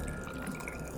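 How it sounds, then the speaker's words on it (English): Water trickling and dripping into a glass at close range, a brief steady pour with small splashy drips and no talking. "pour myself a little glass of water here"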